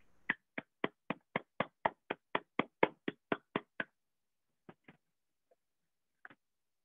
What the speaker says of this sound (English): let's again give a round of applause to our contestants.